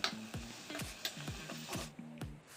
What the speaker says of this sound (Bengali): এবারও আমি খুব ভালো করে বেগুন ভর্তাটা কষে নেব।